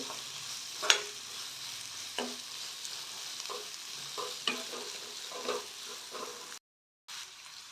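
Onions fry in a pan for a masala dosa potato filling, a steady broadband sizzle broken by clattering stirs of a spoon, with a short silent gap near the end.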